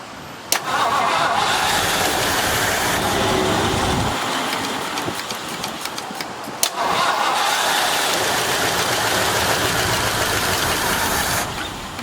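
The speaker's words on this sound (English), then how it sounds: "Take the gas full throttle." A 1972 Mercury Montego engine is pushed to full throttle, roaring loud and close in two long sustained bursts separated by a brief drop to rough idle, with a sharp click at the start.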